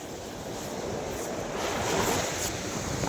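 Sea waves wash up on the shore at a temple beach, a soft steady surf roar that swells slightly midway, mixed with light wind noise and no voices.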